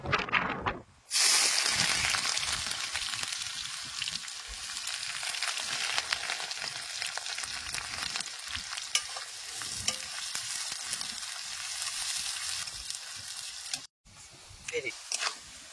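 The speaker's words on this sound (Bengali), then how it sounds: "এখন আমি যে কুচাটা পেঁয়াজ গুলো তেলের মধ্যে দিয়ে" Chopped onions frying in hot mustard oil in a wok, a loud, dense, steady sizzle that runs almost throughout, close up, with brief drops in between and faint talk underneath.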